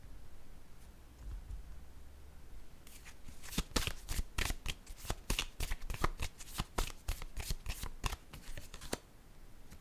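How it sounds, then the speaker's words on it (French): Tarot cards are shuffled close up after a quiet start, a crisp rapid run of riffling slaps and rustles that carries on steadily to the end. "J'aimerais avoir une carte sur ces 3 personnes."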